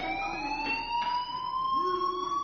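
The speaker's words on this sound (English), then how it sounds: "do you hear that fire alarm?" A fire alarm wails continuously for the whole stretch, a steady rising electronic tone with bright harmonics, loud and close, with faint background noise beneath it and no talking.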